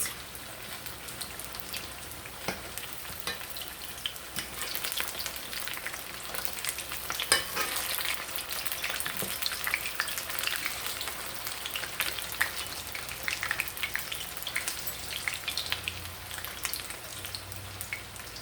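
Salt fish fritters frying in oil in a pan: a steady, dense sizzle and crackle of hot oil heard close up, with occasional light spatters and a soft clink or two from the pan, no talking.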